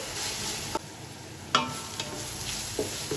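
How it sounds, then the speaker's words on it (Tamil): Ginger garlic paste sautéing in a pan for mutton biryani, a low soft sizzle broken by a few sharp scrapes and taps of a stirring spoon. "நல்லா இஞ்சி பூண்டு வாசனை போகிற வரைக்கும் நல்லா வதக்கிக்கலாம்"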